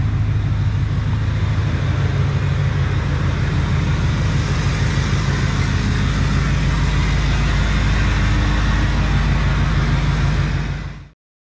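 LBZ Duramax diesel truck engine idling just after starting, a loud, steady low rumble with a rapid clattering pulse that runs unbroken, then cuts off abruptly.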